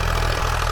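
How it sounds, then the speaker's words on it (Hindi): A Sonalika 734 tractor engine drones loud and close while pulling an 11-tine cultivator through dry field soil, with a steady low, pulsing rumble. "734 ट्रैक्टर है और इसके पीछे 11 टाइन का कल्टीवेटर चल रहा है"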